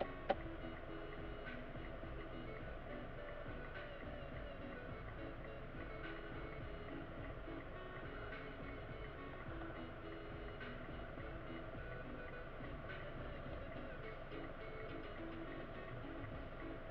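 A train passes a railway crossing in Surabaya, producing a steady, continuous rumble of rolling railcars that holds an even level from start to finish.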